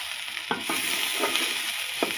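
Eggplant fries with green chillies in hot oil, a bright steady sizzling hiss with a few soft stirring scrapes, close by and with no talking.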